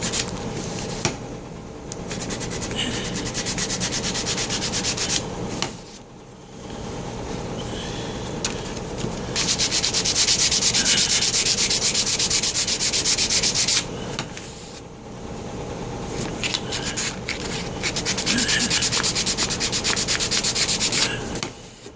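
Hand sanding of a wooden Zenith radio cabinet with 80-grit sandpaper, steady back-and-forth rasping strokes that run close and continuous with brief pauses, no talking.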